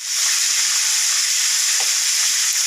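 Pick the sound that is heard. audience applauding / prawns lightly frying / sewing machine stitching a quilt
prawns lightly frying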